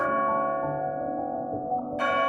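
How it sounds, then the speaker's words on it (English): Resonant church bell tones ring and sustain with a slowly decaying hum, followed by a sudden brighter swell near the end. "it's not Christmas until we hear the bells"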